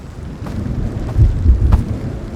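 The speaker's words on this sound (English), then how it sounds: "Damn, that thunder is loud." Low, deep thunder in the video game Road to Vostok rumbles and swells over a couple of seconds, with faint rain-like hiss and no talking.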